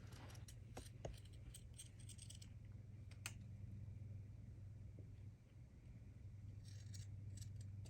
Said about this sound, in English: then I take and I pink the edges, and I go within like 1/8 of an inch of the seam that was done